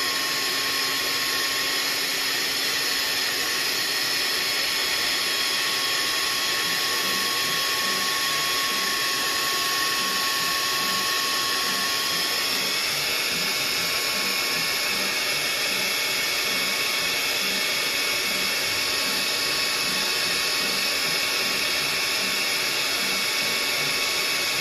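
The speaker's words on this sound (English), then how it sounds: "The next thing we're going to do is use the hairdryer to take that old paint out." Hairdryer on low setting heating the painted eyes of an American Girl Bitty Baby doll, a loud, steady whooshing motor hum with a high whine, running continuously without pause.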